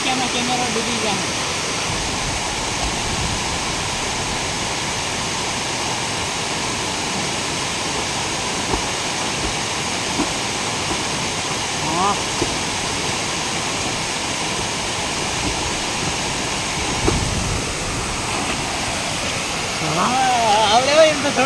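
River water rushes in a steady, unbroken wash close by while someone bathes in it, with occasional indistinct voices over the flow.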